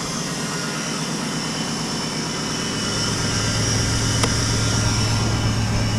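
An LS-swapped square body Chevy pickup idles steadily just after a cold start, a low continuous engine drone that swells slightly louder midway with a brief click, no talking.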